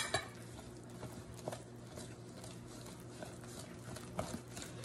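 Butter being mixed by hand into no-knead sandwich bread batter in a bowl: soft, steady scraping with occasional light clinks of the spoon, fairly quiet and close, no voices.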